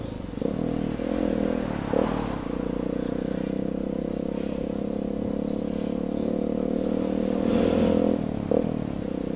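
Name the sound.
vehicle accelerating at full throttle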